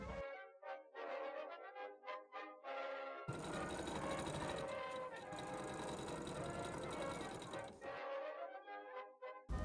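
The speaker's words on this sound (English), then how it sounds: "before sewing the collar pieces to the rest of the collar piece" A sewing machine stitches collar pieces of a satin gown mock-up, first in short rapid bursts and then one long continuous run, close and fairly quiet.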